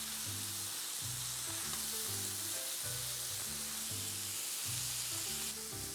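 Chopped peeled tomato sautéing in a pan for tawa chicken, a steady loud sizzle throughout with rhythmic stirring scrapes repeating about once a second.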